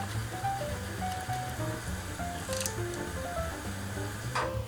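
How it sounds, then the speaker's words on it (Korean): Egg yolks, pepper and cheese stirred vigorously into a thick carbonara sauce without cream: continuous wet squishing and scraping close by, over a light melodic background. "마구마구 저어줍니다"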